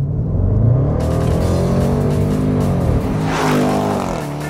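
The engine of a Range Rover Sport SVR roars as the SUV accelerates hard, a loud, rising exhaust note heard from inside with gear changes climbing in pitch and no talking.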